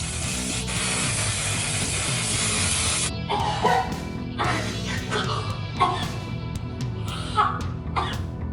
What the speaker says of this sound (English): I've never actually sprayed hair paint into my hair, so this is a first for me.